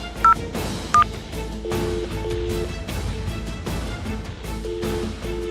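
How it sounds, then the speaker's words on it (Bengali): A telephone number is dialed in a Bengali audio drama, two short electronic tones standing out against a murmuring background bed, with no speech over them. "তারপর রানাকে ফোন করে।"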